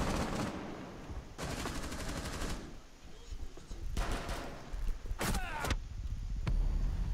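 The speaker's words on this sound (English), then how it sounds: "They're shooting from this window again." Gunfire from a window in the video game Rainbow Six Siege comes in several rattling automatic bursts separated by short pauses, fairly faint and at a distance.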